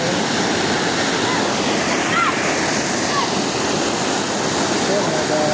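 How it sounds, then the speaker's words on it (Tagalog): Rushing floodwater in Candulawan, Talisay City, Cebu roars as a loud, continuous, dense wash that stays steady from start to finish. "Kaya kusugay baha diri nga pista."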